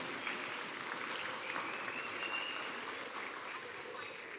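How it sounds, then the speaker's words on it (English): An audience at a gala charity ball claps together in steady, dense applause that holds at an even level throughout, with some speech mixed in. "Let's give the Lord a hand clap."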